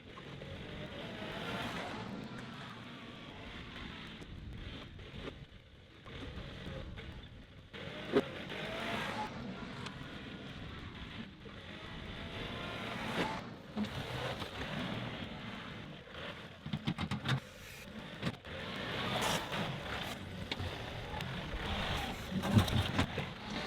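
A vehicle, likely a tractor or work truck, drives slowly with one tire dropped into a rut while shaping a gravel road beside an equipment building; a steady engine rumble with crunching and bumps continues throughout, no talking.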